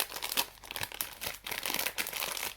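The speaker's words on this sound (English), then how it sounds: "You can hear rustling noise" Crinkly rustling of a packet of chocolate chips being handled while baking orange chocolate chip cookies, a steady run of close, crackling crumples with no voices.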